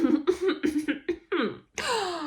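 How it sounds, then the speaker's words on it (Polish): A woman voicing an owl in a bedtime story gives a short embarrassed throat clearing, a few close rasping bursts ending in a drawn-out vocal sound. "Sowa zawstydziła się i odchrząknęła z zakłopotaniem."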